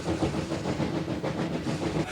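Rumbling rolling noise from the Royal Scotsman, a luxury steam train crossing Scotland, sounds steady and fairly loud on the rails, with a faint rhythmic clatter running under it and no voices.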